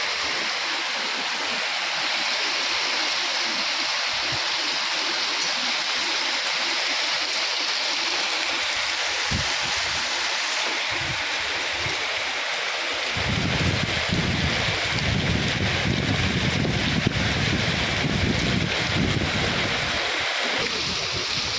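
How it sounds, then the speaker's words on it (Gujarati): Steady heavy rain roars without a break, with wind buffeting the microphone; the downpour grows denser and louder partway through. "થોડોક પવન છે અને વધારે વરસાદ ચાલુ"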